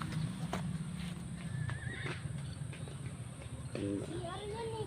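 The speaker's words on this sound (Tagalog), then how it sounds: "Uy, kabayo." A horse on a farm whinnies in short, wavering calls toward the end, near and clear, after steady clip-clopping hoof steps, while people talk softly in the background.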